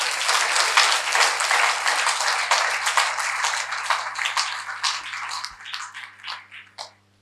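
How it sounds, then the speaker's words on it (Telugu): An audience at a wellness event hall claps for film celebrities, a dense burst of applause that holds steady and then thins to scattered claps before fading out. "గట్టిగా చప్పట్లు కొడదాం వాళ్ళకి."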